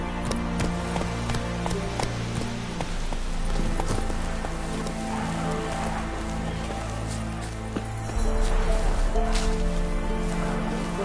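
Roach, a horse in The Witcher 3: Wild Hunt, gallops with steady hoofbeats under continuous game music and ambient noise. The hooves are fairly close and hold a rolling rhythm throughout.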